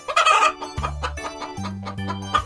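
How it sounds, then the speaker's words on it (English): A cartoon chicken gives a quick burst of loud clucking followed by a short crowing call, all close and clear, with no talking over it. "Chicken."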